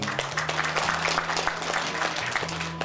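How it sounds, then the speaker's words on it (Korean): Guests at a 60th birthday banquet applaud, a soft, continuous patter of clapping heard from a short distance. "다시 한번 박수 주시기 바랍니다"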